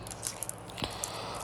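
Crunchy slime is squished and worked by hand, giving a few quick crackling crunches and one soft squelch, close and fairly quiet.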